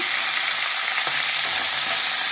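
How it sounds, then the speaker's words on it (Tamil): Chicken sautéing in a pan with ground paste, a steady loud hiss of frying with a few faint stirring scrapes underneath, close and continuous, no voices. "சிக்கனும் போட்டு வதக்கிக்கலாங்க."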